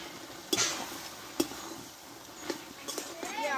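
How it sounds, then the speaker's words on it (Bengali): Spinach curry with sugar and coriander stirred in a pan, with a few distinct scraping knocks of the spoon and light sizzling underneath, close and fairly quiet, while a voice talks over it. "আবারও কিছুক্ষণ আমি এইভাবে নাড়াচাড়া করে নেব"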